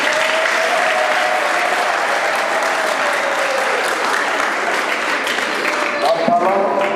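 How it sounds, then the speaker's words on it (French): A congregation at a closing Mass in Bukavu applauds its chaplain, with sustained, even clapping from a large crowd that stays loud throughout while a voice speaks faintly above it. "Nous pouvons acclamer pour notre abbé aumônier."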